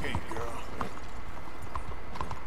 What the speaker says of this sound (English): I am parking my horse